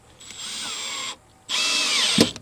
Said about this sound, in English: now we're going to go through and do all of the screws down the entire length